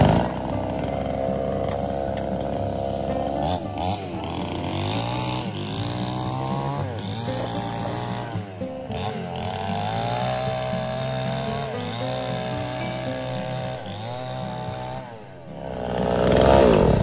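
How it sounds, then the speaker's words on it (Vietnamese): A sawing machine cuts through wood at a village house build, its motorised engine droning loud and steady throughout with pitch rising and falling as the blade bites, nearby and continuous. "May mà có cái máy xẻ này các bác ạ, nó thì mọi việc nó cũng sẽ được thuận lợi và nhanh hơn."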